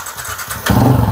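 A Yamaha Sniper 150 motorcycle engine catches on the electric starter after a few cranking pulses, then settles into a loud, steady close-up idle.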